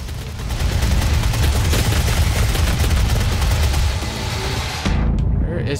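Dense, continuous gunfire and explosions roar loudly throughout a chaotic Doom SnapMap firefight, with shotgun blasts buried in the barrage and a brief drop near the end before the noise resumes.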